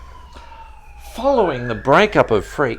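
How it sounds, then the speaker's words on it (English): Police-style siren wailing outside, a rising and falling tone at moderate distance, heard under someone speaking. "That's a siren."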